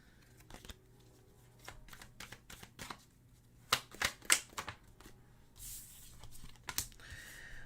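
Tarot cards shuffled and drawn for a reading: soft, irregular card riffles and crisp snaps and taps at close range, fairly quiet, with a brief rustle toward the end and no talk.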